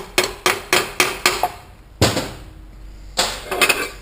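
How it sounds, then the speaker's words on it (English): A ball peen hammer taps a bushing into a 4L80E transmission pump, sharp metallic strikes landing about twice a second with short pauses, close and loud with no talking. "Kind of just tap the bushing into the side so it doesn't move."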